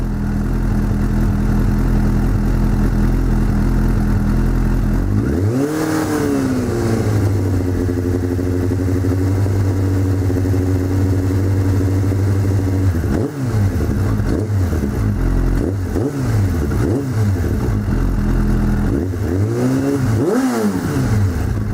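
Suzuki GSX600 motorcycle engine after a valve adjustment and carburetor sync, idling steadily with a lumpy rumble, then blipped through several crisp throttle revs that rise and fall quickly, close and loud throughout.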